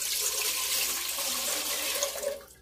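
Water pours steadily into a metal cooking pot for about two seconds before it trails off. It makes a continuous, close, splashing rush with no voices.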